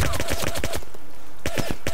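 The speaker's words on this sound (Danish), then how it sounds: "Nej, det er skudt med lyddæmpe. Nå. Jeg tømte simpelthen bare magasin på den." Rapid suppressed gunfire from the Arma 2 DayZ mod video game as a magazine is emptied, delivered in two quick bursts of sharp, evenly spaced shots with a short pause between them, loud and close.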